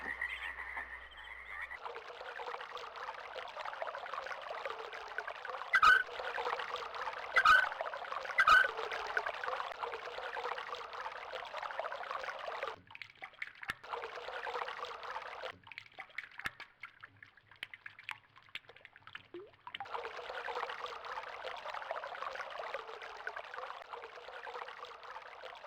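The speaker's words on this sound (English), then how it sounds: "And you can hear now that the water is flowing through the pipes." Water flows through pipes in the video game Myst, a steady rushing and gurgling stream that runs nearly throughout, briefly broken by quieter gaps and a few sharp clicks, with no speech.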